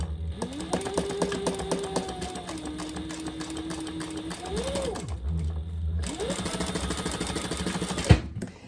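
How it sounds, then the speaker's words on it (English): A sewing machine runs steady top stitching along wallet card slots, with a continuous mechanical whir that pauses briefly and then starts again, and a sharp click near the end. "then I'll just do a little top stitching"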